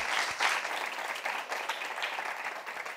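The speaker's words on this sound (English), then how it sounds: "Big round of applause for Marianne, please." An audience at a science pitch competition claps steadily for about three seconds, a dense, even wash of many hands in a hall, fairly loud and with no talking over it.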